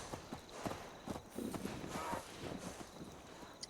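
Charlie, a brahmin cow in the Fallout 76 video game, walks along with a steady run of hollow hoof clops, fairly close, over a light game ambience.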